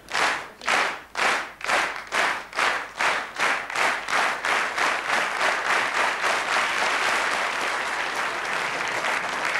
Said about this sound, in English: Bit of clapping.